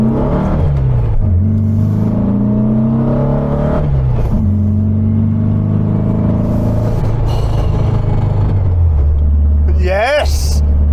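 A 1974 VW Super Beetle with a 1915cc engine drives and accelerates, its air-cooled engine rumbling loudly and climbing through gears with steady rising tones, while someone talks over it.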